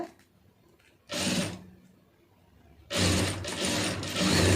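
A sewing machine stitches a hook strip in two runs, a short whirring burst followed after a pause by a longer, louder continuous rattle of stitching.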